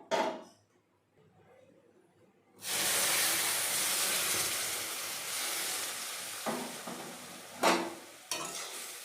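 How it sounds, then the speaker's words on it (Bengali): Hot water is added a little at a time to semolina (suji) frying in a pan, setting off a sudden loud steaming sizzle that hisses on, followed by further short bursts as more water goes in. "এর মধ্যে আমি ধীরে ধীরে অ্যাড করে দেব গরম জল।"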